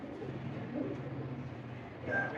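Rampuri pigeons coo softly nearby in low, throaty murmurs that rise and fall in slow pulses over a dull background hum.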